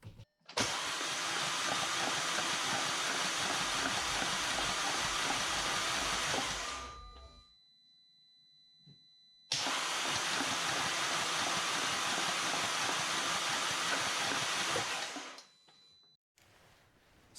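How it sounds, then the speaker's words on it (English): A car engine is cranked with the spark plugs removed to clear leftover liquid from the cylinders after cleaning clogged piston rings, giving two long, loud, steady whirring bursts of about six seconds each, separated by a short pause. "Let's crank up the motor and evacuate any of the liquid that's left over."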